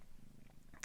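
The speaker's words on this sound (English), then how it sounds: "today I'm holding my one of my two kitties" Henry, a pet cat held in someone's arms, purring softly and steadily at close range, a low continuous rumble with a brief brighter rustle near the end.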